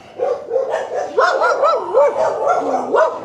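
A dog barks and yips repeatedly up close in Southeast Asia, its voice rising and falling in whiny, howling tones, loud and continuous.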